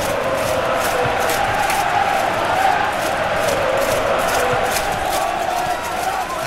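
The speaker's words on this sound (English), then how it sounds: "Crowd calling for him to shoot" Steady, dense stadium crowd roar with a swelling chant urging a shot during a France vs Belgium World Cup match in PES 2018, loud and continuous with no distinct voices.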